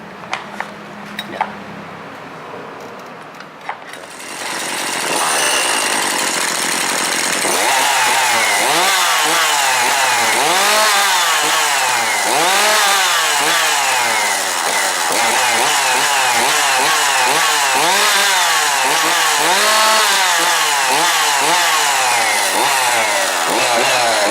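A powerful chainsaw with a light, easy pull start: a few faint rattles, then the engine catches and runs loud and close with repeated revving surges for about twenty seconds.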